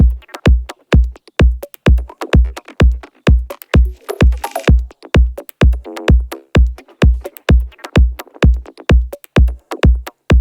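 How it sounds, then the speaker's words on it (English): Layered glitchy electronic percussion made in Ableton: a steady pattern of deep kick hits with clipped, crackling upper textures and short stuttering bursts, loud and rhythmic with no voices. "I'm going to show you how to easily layer and build your glitchy percussion, and it will sound a bit like this"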